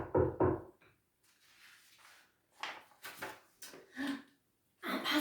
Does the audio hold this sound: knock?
yes